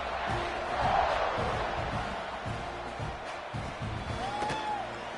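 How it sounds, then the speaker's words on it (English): A football stadium crowd roars before kickoff, a broad sustained wash of cheering with rhythmic thumps and an occasional whistle running throughout. "this crowd is feeling themselves after that last drive"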